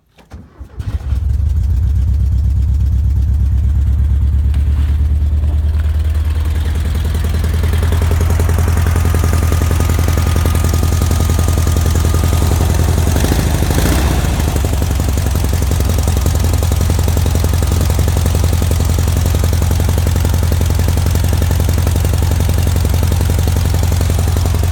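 An old Volkswagen Beetle engine cranks briefly, catches, then settles into a loud, steady, rumbling idle that runs on without a break.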